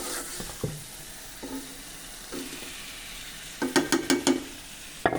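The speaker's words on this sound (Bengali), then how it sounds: "বুঝছে এবার আলুটা দিতে পারেন" Potatoes hit a hot pan and fry, with a few brief sizzling bursts and stirring scrapes, clearest as a quick cluster of crackles near the end against a quiet kitchen background.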